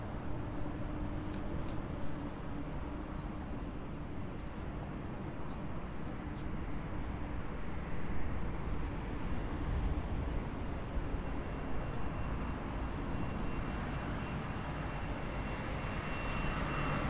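A KLM Boeing 737 taxis toward runway 08 left at Munich Airport, its engines a steady, moderately distant jet rumble and hiss that holds evenly throughout with no talk.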